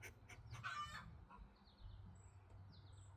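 Chickens, including a big brown hen, cluck and call softly on a perch, with a few short bursts of clucking over low background rumble.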